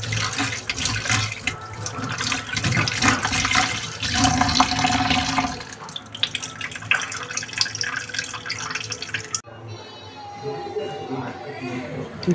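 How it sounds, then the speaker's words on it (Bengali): Tangra fish being rinsed by hand under a running kitchen tap, water splashing and trickling steadily for most of the time before easing into lighter drips and sloshing near the end. "মাছগুলোকে আমি ভালোভাবে ধুয়ে নিচ্ছি।"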